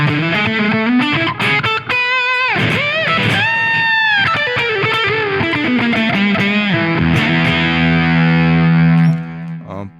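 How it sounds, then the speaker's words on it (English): Electric guitar played through a fuzz pedal from HX Native into a NAM amp model: thick, heavily distorted chords and sliding notes ring continuously and loud, ending in a sustained note that cuts off. "Let's try this Fuzz."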